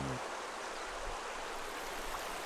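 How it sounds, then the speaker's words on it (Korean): Steady rushing of the upper Soyang River at Inbukcheon, Inje, Gangwon Province, a continuous broadband wash with no voices, close and fairly loud throughout. "옥빛 강물이 청량한 소리를 내뿜고 유유히 흐른다."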